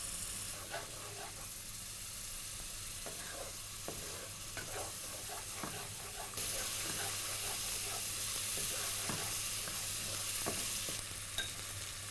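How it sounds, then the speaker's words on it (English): Onions sauté in a pan for soya biryani, a soft steady sizzle under repeated scraping stirs that grows slightly louder about halfway through, with no talking. "Cook till the raw flavor of onion removes."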